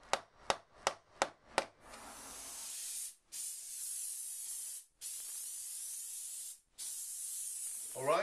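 Glue sprayed onto a wall fitted with furring channels for soundproofing: a few sharp knocks, then long steady bursts of loud airy spray hiss separated by short pauses, close by with no talking.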